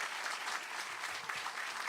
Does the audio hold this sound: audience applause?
yes